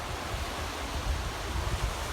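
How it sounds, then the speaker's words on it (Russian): Sea waves and wind on the beach at Jurmala make a steady, broad roaring wash with low rumbling gusts, continuous and fairly close, with no voices. "Макс и Ника на море."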